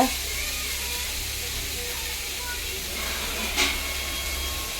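Vegetables sautéing in a pan for Tamil-style banana stem poriyal, a steady close hiss and sizzle running throughout with a brief louder flare near the end.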